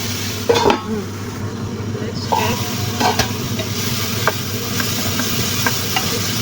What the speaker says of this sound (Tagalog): may gisa-gisa na ang gulay at maglagay tayo ng konting water